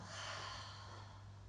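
One long, steady breath is pushed out during a yoga locust pose, a soft breathy rush that stays close and fairly even for its short length over a faint low hum.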